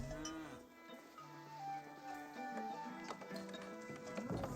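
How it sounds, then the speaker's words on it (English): Cows moo amid a busy Age of Empires 4 battle, several drawn-out lowing calls rising over a dense bed of game music and effects, with hoofbeat-like clatter mixed in. "More cows being pulled in out."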